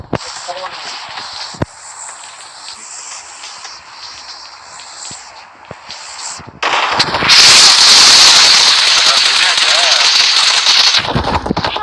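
Rapid automatic gunfire bursts in the PUBG Mobile video game, a dense loud barrage in the second half after sparser shots and clicks, with players talking over it.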